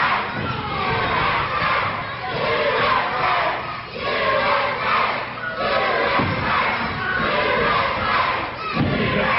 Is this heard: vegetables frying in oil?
no